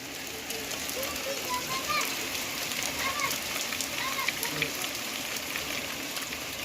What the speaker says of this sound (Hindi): कितनी तगड़ी वाली बारिश आ रही है, बूंदे देखो कितनी बड़ी बड़ी गिर रही है